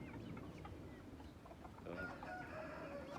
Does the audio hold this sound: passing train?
no